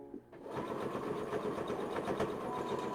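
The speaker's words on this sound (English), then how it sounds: "Back stitching, of course." An electric sewing machine back stitching while sewing a spellbag, a steady close mechanical whir that holds constant for nearly the whole stretch after a brief quiet start.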